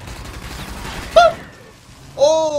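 Shots in a video game, Rage, come as a few brief sharp reports amid a dense wash of synthetic tones and effects, moderately loud with gaps between them.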